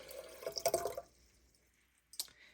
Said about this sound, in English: And then we're just going to pour the water over the rose hips.